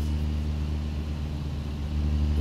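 A Freightliner Cascadia 2023 in a truck driving game, hauling heavy gondola trailers, drones with a steady low engine rumble as it accelerates, loud and close without talk.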